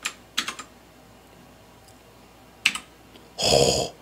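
Keys on an RK61 mechanical keyboard click in a few quick, close, crisp bursts with pauses between them, followed by a brief louder rustling clack at the end.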